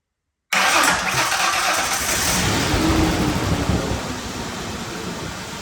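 A Ford 4.0 V6 engine on a stand starts abruptly and runs loud and close with a rough, steady roar that eases slightly toward the end, with no talk.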